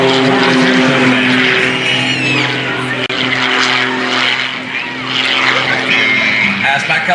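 Aerobatic propeller airplane at an airshow, its loud droning engine and prop whine shifting in pitch continuously as it pulls up into a vertical climb and hangs, with a commentator talking over it.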